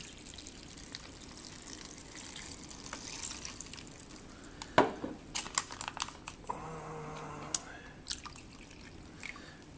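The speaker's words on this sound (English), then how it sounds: "And we will shake it up in this package." Cold water sloshing as it is shaken with drink powder inside a plastic MRE beverage pouch, heard as crinkling plastic and liquid sloshing in irregular bursts, close and moderately quiet.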